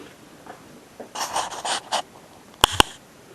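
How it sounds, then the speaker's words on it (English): Two sharp, close clicks sound in quick succession as the side button of a camera is pressed to switch its screen back on, after a few soft rustling and scraping noises. "that little clicking noise is me switching the screen back on, pressing the button on the side of the camera"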